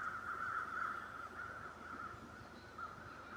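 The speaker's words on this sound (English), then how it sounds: "I hear a bunch of crows." Crows caw repeatedly in the video game The Long Dark, a loose string of harsh calls carrying steadily over a quiet wintry ambience with no talk.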